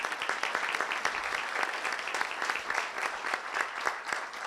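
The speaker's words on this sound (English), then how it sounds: "So please give a round of applause to these people, because they are the ones who make everything happen." Steady crowd applause at a city proclamations ceremony at a council meeting, many hands clapping densely and evenly for several seconds with no voices over it.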